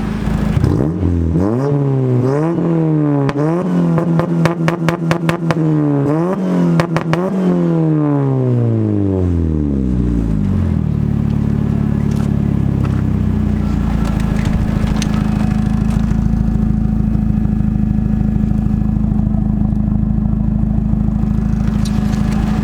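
A Honda Del Sol engine revved repeatedly in short rising and falling bursts, loud and close, then settling into a steady rough idle with some clatter for the remaining stretch.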